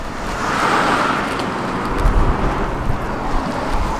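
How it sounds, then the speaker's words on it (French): Cars pass on a busy national road in Japan, a continuous roadside wash of tyre and engine noise that swells and fades as vehicles go by, with some low rumbles and no speech. "il y a une nationale avec plein de voitures qui passent"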